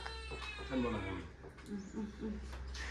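A cat at a Laotian market stall lets out a drawn-out meow near the start, followed by softer cat sounds while people talk nearby.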